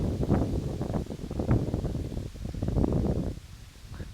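Strong gusts buffet a microphone outdoors, heavy low rumbling wind noise surging and fading steadily throughout, with no voices.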